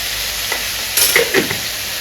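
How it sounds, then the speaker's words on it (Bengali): Soybean chunks, cauliflower and potato fry in a pan, a close steady sizzle with a few sharper clinks and scrapes of stirring partway through. "হ্যাঁ, একটু ভাজা ভাজা হোক।"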